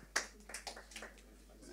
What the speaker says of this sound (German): Äußerst verhaltener Applaus